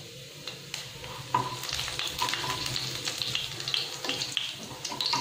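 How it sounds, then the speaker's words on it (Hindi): Cumin seeds frying in hot oil for an aloo pyaz sabzi, with a continuous crackling sizzle that grows busier as the seeds pop, plus occasional spoon clicks against the pan, close and without speech. "इसमें हम डालेंगे जीरा, और जीरा को हम भून लेंगे"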